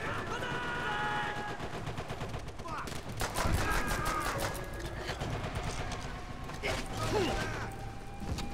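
Dense bursts of rifle and machine-gun fire crackle nonstop through a World War II Pacific battle in Call of Duty: World at War, shots layered near and far with background voices and battle chatter.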